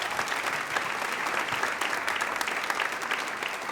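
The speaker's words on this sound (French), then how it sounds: "est-ce qu'on peut l'applaudir bien, bien, bien fort?" A church audience breaks into steady, dense applause, many hands clapping together continuously at a moderate level with no voices standing out.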